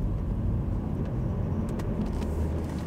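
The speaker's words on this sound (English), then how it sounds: "this is one of the quietest diesels I've ever tested" From inside a 2015 Volvo V70 D3 Momentum on the move, the diesel engine stays subdued beneath a low, even rumble of road and tyre noise, with no voices.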